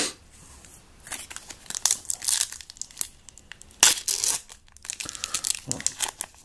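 Foil wrapper of a Magic: The Gathering Ixalan booster pack torn and crinkled open by hand, with close, loud ripping bursts and crumpling rustles in irregular spurts.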